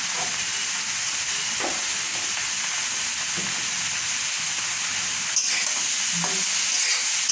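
Potatoes coated with turmeric fry in a pan for aloo dum, giving a constant loud hiss of sizzling oil with a few faint stirring scrapes now and then.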